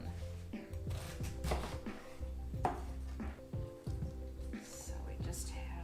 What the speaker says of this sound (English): I'll cut up some of the cabbage I'd like to add in.